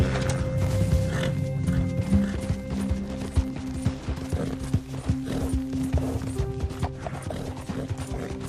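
Horse hooves clip-clop at a steady galloping rhythm in Red Dead Redemption 2, with tack rattling and a brief whinny over a low, sustained game-world hum, loud and close throughout.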